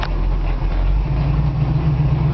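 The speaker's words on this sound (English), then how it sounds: "Fires up with the touch of a key." A 1970 Chevrolet Camaro SS V8 idling nearby, a loud, steady deep rumble that holds evenly with no other sounds.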